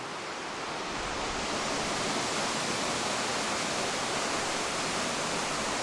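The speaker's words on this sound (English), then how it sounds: "A waterfall in Piedmont, in the middle of nowhere." A high-running waterfall in the Piedmont countryside produces a steady, dense roar of rushing water. It is close and continuous, with no breaks and no voices.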